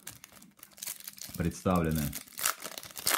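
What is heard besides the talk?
tearing open a foil trading card packet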